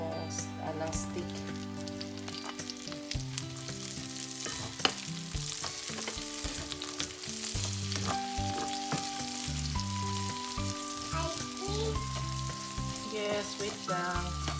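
Garlic and sea kale stalks sizzle and fry in a pan, a continuous crackling sizzle with occasional stirring and clatter, while a person talks intermittently over the cooking.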